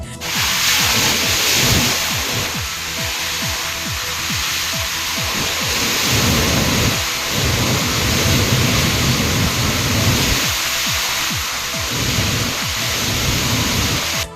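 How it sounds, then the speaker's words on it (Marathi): Steady, heavy monsoon rain in Solapur pours down in a dense, continuous roar, with some faint low rumbling and irregular tapping mixed in. "हा पाऊस दमदार हजेरी लावतोय"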